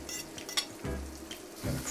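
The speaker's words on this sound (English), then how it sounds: "We're gonna fry our capers with the garlic and the lemon." Capers fry with garlic and lemon in a hot pan, a steady close sizzle with crackling bursts and occasional scraping stirs.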